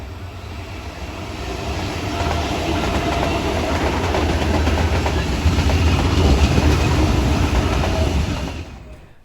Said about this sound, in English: The next train type to arrive after 7 AM was the T set, more commonly known as the Tangara train